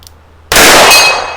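Revolver bullet striking an 8-inch steel gong plate at 50 yards from a Smith & Wesson Model 19, a single sharp metallic clang that rings out and slowly decays, loud and alone.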